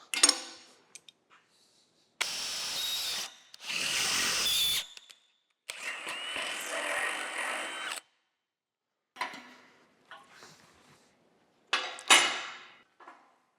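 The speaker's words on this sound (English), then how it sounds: "while I drill the other side over there" A power drill whirs in several bursts of a second or two each, loud and close, drilling leg braces on an old Champion Midway No. 71 forge, separated by short pauses and a few small clinks.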